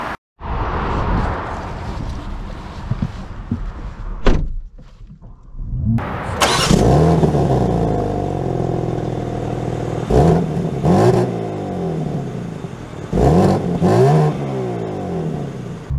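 A 2024 BMW M4 Competition fires up with a sharp burst after a quieter stretch, then settles into a steady engine note with repeated swells of revving as it pulls away, loud and close with no talk.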